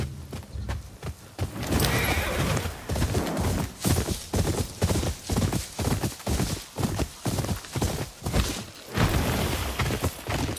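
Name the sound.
horses neighing and hooves clip-clopping in video game Ghost of Yotei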